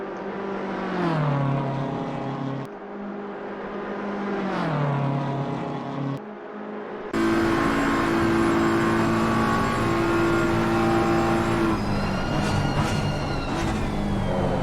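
Race car in Assetto Corsa Competizione at Spa, its engine screaming loud and close, climbing in pitch and cutting sharply at each upshift before a second car roars past.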